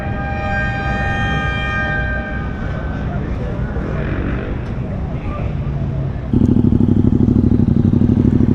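Racing motorcycles lined up on a Moto America starting grid, engines idling and revving in a steady mechanical drone that swells into a loud, sustained roar near the end, with crowd and voices mixed in.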